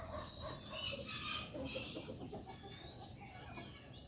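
Chickens clucking in a yard, soft scattered clucks and calls heard at a distance, faint but steady for a few seconds.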